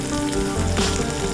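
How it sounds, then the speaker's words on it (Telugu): Onions and tomato frying in a pan with turmeric, a loud, dense, steady sizzle heard close up with no talking. "ఇప్పుడు ఉల్లిపాయలు తొందరగా వేగితే కనుక కొంచెం ఉప్పు వేసుకుందాం"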